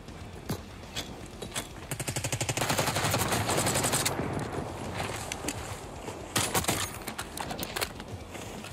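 Video game gunfire, including SMG fire, in rapid automatic bursts. A long sustained volley is followed by a shorter one, with scattered single shots and footsteps in between, loud and close.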